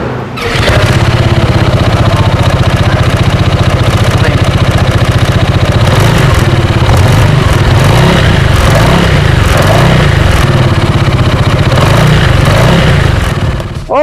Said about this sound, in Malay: Ini exhaust standard dia lah uh, Exhaust standard dia macam ni